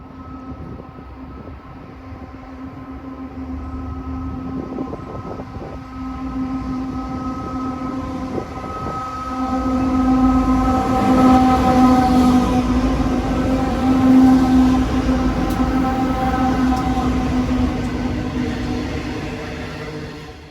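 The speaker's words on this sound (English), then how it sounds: "The full coal hoppers are going towards the port on Kurrangong Island and the empties are coming back the other way." A coal freight train of hopper wagons hauled by Aurizon C44aci locomotives rolls through Sandgate Station on the Hunter Line with a loud, sustained rumble and wheel noise, and a steady whine builds as it passes close by.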